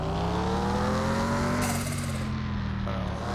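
A car accelerating on a race track as the clutch is eased out, a steady loud engine drone with the pitch rising gradually before a brief gritty burst near the end.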